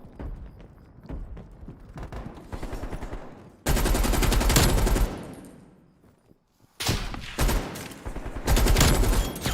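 Video game gun firing in long loud automatic bursts, two dense rattling volleys separated by a quieter stretch of lighter shots and footsteps, all close and dominant with no talk over it.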